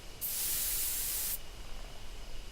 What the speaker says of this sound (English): I take a careful hand and spray the drug